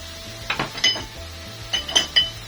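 Ginger, garlic and chopped chilies drop into minced meat in a karahi, giving a few quick clinks and soft sizzling thumps in two short bursts over a low background hum.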